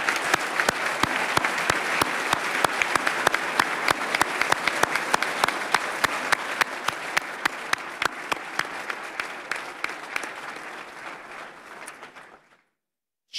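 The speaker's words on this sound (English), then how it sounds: "give a big round of applause" A large crowd at a State of the State address claps enthusiastically for about twelve seconds, loud and sustained, then tapers off and stops.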